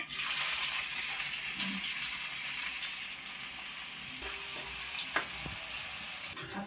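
Onion frying with cumin in a pan gives a steady, fairly quiet sizzle from start to finish, with a few faint clinks of stirring near the end.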